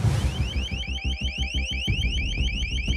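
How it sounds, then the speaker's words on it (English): An alleged sonic weapon recording released by the Associated Press: a shrill, high, pulsing electronic chirp repeating rapidly and evenly over a low background rumble, sounding much like a car alarm, with no voices. "Is the sound a recording of a sonic weapon?"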